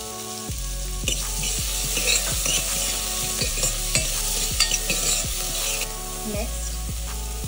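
Chopped onions hit hot oil with cumin seeds, setting off a loud, close, crackling sizzle punctuated by rhythmic spatula scrapes and taps against the pan, roughly once per second.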